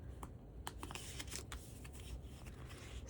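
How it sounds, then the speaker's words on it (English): Board game cards for a cozy sticker-themed game being shuffled by hand, a steady stream of crisp riffling and flicking card noise at close range with no voices. "I'm going to go ahead and kind of shuffle them."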